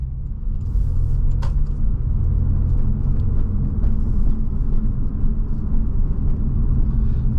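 Low, steady rumble of a 2013 Porsche 911 Carrera S Cabriolet with PDK transmission rolling to a stop, heard from inside the cabin as continuous engine and road drone with a brief click near the start and no speech.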